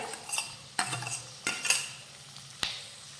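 Chopped tomatoes dropped into a hot pan for a kaju masala curry, giving a few sharp utensil clinks and scrapes against the pan over a soft, low sizzle, with quiet stirring in between.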